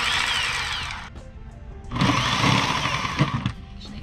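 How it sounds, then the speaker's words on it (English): A power saw cutting a hole in a shoe cabinet, heard up close: a loud, buzzing, high-pitched whine in two bursts with a brief pause between them. "Now it's time to start sawing."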